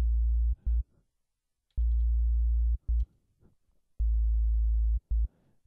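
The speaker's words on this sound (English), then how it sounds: "Now you have a very basic sine wave at 55 hertz." A plain 55 Hz sine wave generated on the main oscillator of Ableton Live's Operator synth, a low bass-like hum repeated as several steady, loud sustained bursts of about one second, with short sharp clicks and brief gaps between them.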